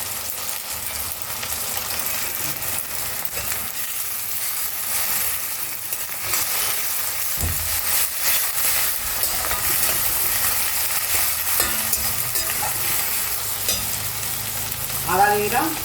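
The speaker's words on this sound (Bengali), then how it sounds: "এবার আমি এর মধ্যে গ্রেট করে রাখা রসুন দিয়ে দিলাম।" Grated garlic frying in a hot pan for a Bengali chickpea and potato curry, a steady close sizzle with stirring scrapes throughout and a brief louder spatter near the end, no voices.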